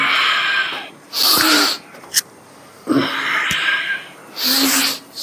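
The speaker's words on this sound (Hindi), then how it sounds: "सांसों की आवाज आनी चाहिए" Forceful, rhythmic breathing during a yoga exercise for sinus relief: loud, close bursts of air pushed through the nose, several long strong breaths with short pauses between them, alone with no talk.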